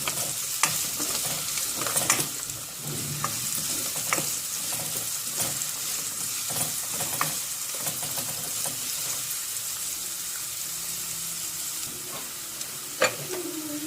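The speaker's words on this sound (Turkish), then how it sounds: "Biraz sotelenecek. Arada karıştırıyorum." Carrots sautéing in a little oil in a pan, stirred now and then: a steady close sizzle with intermittent scraping stir strokes and clicks, no voices.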